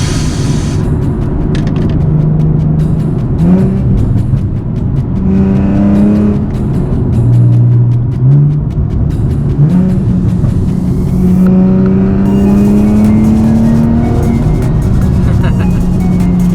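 A sports car with a newly installed clutch revs and accelerates loudly through rising and falling gear pitches, close up, with someone talking over the roar.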